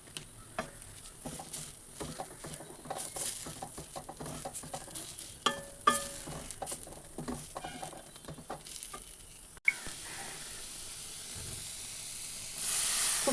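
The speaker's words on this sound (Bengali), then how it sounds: "খুব সামান্য সামান্য জল দিয়ে এটাকে খুব ভালো করে কষিয়ে নিচ্ছি।" A spiced breakfast mixture with salt and turmeric is sautéed in a pan with a little water. Utensil scrapes and taps come in irregular strokes over a soft sizzle, followed by a steadier steamy hiss.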